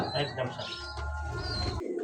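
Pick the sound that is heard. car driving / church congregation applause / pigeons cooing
pigeons cooing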